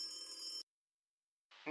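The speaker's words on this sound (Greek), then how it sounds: "Το τηλέφωνο χτύπησε 3 φορές" A telephone rings with a bright electronic trill, then cuts to silence before a voice begins, all close and fairly quiet.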